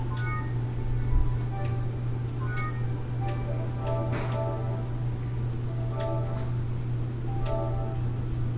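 A house cat meows several times, short repeated calls at a moderate distance over a constant low electrical hum, with a faint ticking in the background.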